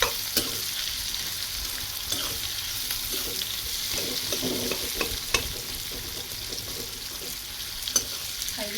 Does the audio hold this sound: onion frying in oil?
yes